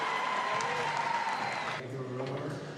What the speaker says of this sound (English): That was a cheer that you heard from the crowd.